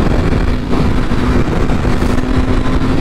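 A Triumph Tiger 800 motorcycle engine runs close and loud, a rough steady drone that holds under wind noise throughout without clear revving peaks.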